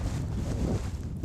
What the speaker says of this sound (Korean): 바람이 세게 불면서 파도까지 요동쳤다.